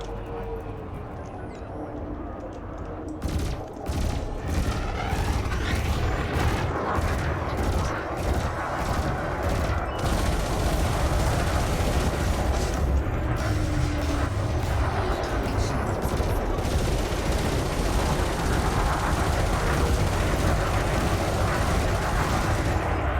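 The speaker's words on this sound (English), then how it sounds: "Space shotgun." Repeated heavy weapon blasts from a shotgun-style weapon during space combat in Elite Dangerous, loud and dense, pounding almost continuously under a constant roar of engine and battle noise.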